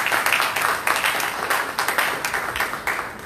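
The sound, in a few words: church congregation applauding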